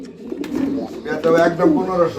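A male pigeon coos nearby in soft, throaty, rolling calls that rise and fall over a couple of seconds.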